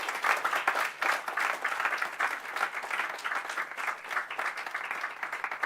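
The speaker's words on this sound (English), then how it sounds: "Give them a big applause, guys." Steady, lively audience applause rings out at an inaugural function welcoming first-year undergraduate and postgraduate students, a continuous dense patter of many hands clapping with no voices over it.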